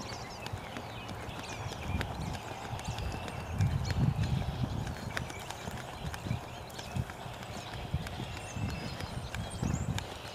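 A horse's hooves beat steadily on an arena surface during a dressage lesson, moving from trot into canter, with a continuous muffled rhythm at moderate distance under faint background noise.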